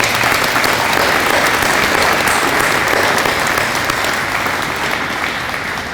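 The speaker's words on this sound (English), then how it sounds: "Please join me in a round of applause." Audience applause at a graduation ceremony, a steady, dense wash of clapping from a large crowd that holds loud and even for the full stretch with no voices over it.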